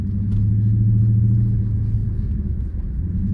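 A Dodge Charger 392 Scat Pack accelerating, a loud deep engine rumble heard from inside the car that swells and then eases slightly, with no voices.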